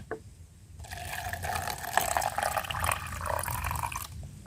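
Lime water poured into ten litres of water and mixed for a garden spray, a few seconds of sloshing, splashing liquid heard up close, with a faint clunk at the end.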